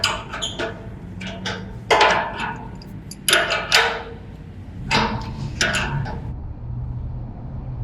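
A crescent wrench turns a tube expander mandrel inside a boiler tube, giving a series of sharp metallic clicks and ratcheting knocks in uneven bursts, close by and fairly clear against a quiet background.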